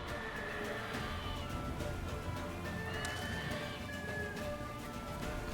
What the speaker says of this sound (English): Will this horse hurry up?